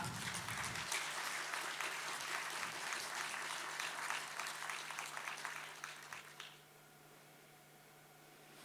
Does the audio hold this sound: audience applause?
yes